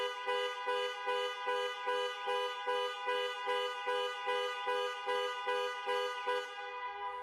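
A Range Rover Sport's panic alarm blares its horn in loud, rapid pulses, about twenty evenly spaced honks that repeat without a break for several seconds before cutting off.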